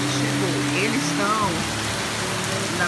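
Steady rain falling outside a hotel, a continuous hiss of drops on surfaces, with faint voices under the rainfall.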